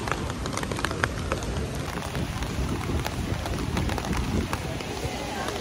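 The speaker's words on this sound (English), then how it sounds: "It's raining." Steady rain falling at Gwangjang Market in Seoul, a dense even hiss of drops on surfaces and awnings, fairly faint, with a continuous murmur of market bustle underneath.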